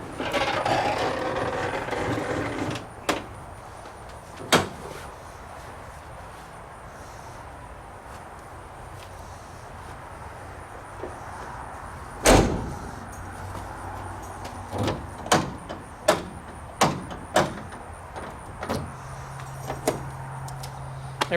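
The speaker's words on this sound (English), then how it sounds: "Now I put the door panel on and I'm done." A door panel is fitted onto the door of a Pontiac C10 truck in a workshop, with sharp clicks and snaps of clips popping in, scattered knocks and taps against the door, and brief rattles between quiet pauses.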